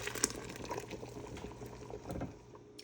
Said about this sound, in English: I just use one of these gripper things and just pour the water out